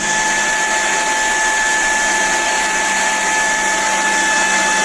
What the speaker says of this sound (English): attempted to use a high-powered leaf blower to close the door